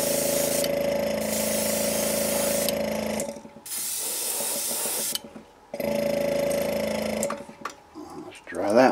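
Hot air blowing steadily to dry fresh paint on a crankbait fishing lure, a loud continuous hiss that cuts out briefly and resumes in bursts, with a few quiet handling noises in the gaps.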